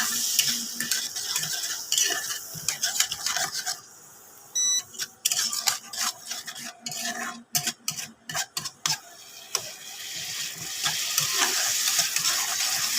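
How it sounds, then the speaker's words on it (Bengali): Katla fish curry sautéed and stirred in hot oil in a Bengali kitchen: a steady close sizzle with repeated spoon scrapes and clinks against the pan, briefly broken by a short pause before the frying and stirring resume. "এবার এটাকে কষিয়ে নেব।"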